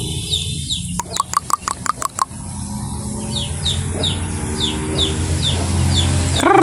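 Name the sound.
chickens clucking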